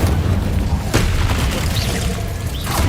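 Incendio fire spell erupts in Hogwarts Legacy combat amid a constant loud rumbling roar, with a sharp burst near the start and another flare near the end.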